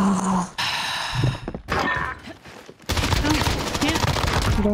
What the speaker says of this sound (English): I don't know where I got sniped from.